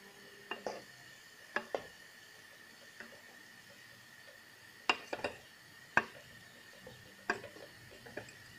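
Couscous with raisins being stirred in a cooking pot: a quiet run of sparse, sharp utensil clinks against the pot, about ten taps spread irregularly over several seconds, with no voices.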